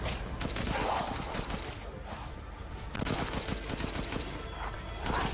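Rapid rifle gunfire in the video game Resident Evil Village, repeated sharp shots in dense bursts over a constant noisy game backdrop, loud and close throughout.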